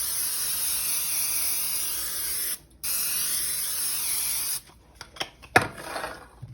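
Cooking spray hisses onto a 13 by 9 baking pan in two long bursts with a short pause between, followed by a few scrapes and clatters of the can and pan.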